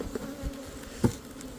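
Honeybees buzz around an opened hive during an inspection on a mild day in England, a steady close drone of many wings with a few louder passes as bees fly near.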